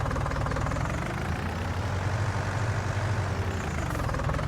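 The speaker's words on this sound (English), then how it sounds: "So we've got our little tractor." A small tractor idles in a farming video game, its engine a steady low chugging drone that holds close and even throughout with no voices over it.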